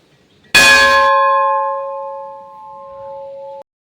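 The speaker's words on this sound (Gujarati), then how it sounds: "આ છે ઘંટ" A single loud strike of a metal bell at a Krishneshwar Mahadev temple, close by, followed by a long, clear ringing hum that slowly fades for about three seconds before cutting off.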